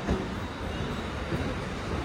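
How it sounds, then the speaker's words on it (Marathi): A dense, steady rumble of a late train arriving close by at Thane station, continuous low mechanical noise without talk. "ट्रेन आ गई. ट्रेन आ गई भाई. लेट आई पर आई."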